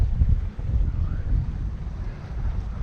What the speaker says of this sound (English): now I'm sailing to find an anchorage for the night